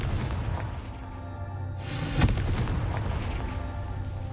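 A Confringo fire-blast spell goes off in the video game Hogwarts Legacy. A rushing whoosh builds into a single heavy boom partway through, over a dense, rumbling game background.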